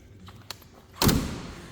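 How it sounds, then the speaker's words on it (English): A 1931 Ford Model A sedan's door shuts once with a solid, close thud about a second in, followed by a short fading rattle. "You'll love how those door close and how they sound."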